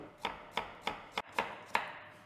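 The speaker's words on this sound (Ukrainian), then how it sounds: "частинку зроблю дрібним кубіком, а частинку наріжу грубшим" A knife dices vegetables for mirepoix on a cutting board, striking six crisp, evenly spaced chops at close range with no talking.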